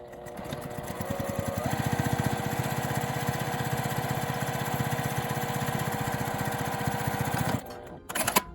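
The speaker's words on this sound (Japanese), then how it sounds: "端を縫います。" A sewing machine stitches the edge of a tweed tote bag with a steady, fast mechanical whirr and rapid needle chatter for about seven seconds, then stops, followed by a few short bursts.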